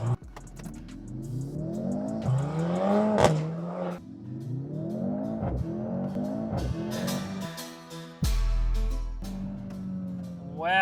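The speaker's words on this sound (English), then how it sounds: "C63s AMG, 0 to 100." A 2025 Mercedes C63 S AMG hybrid launching from 0 to 100, engine revving hard and rising through several sharp upshifts with clattering shift breaks, loud and close throughout.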